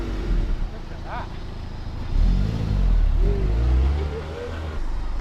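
A salvage-repaired Mazda MX-5 driving with a newly fitted differential, its low engine drone rising as it pulls away, with faint tyre and road noise under someone talking.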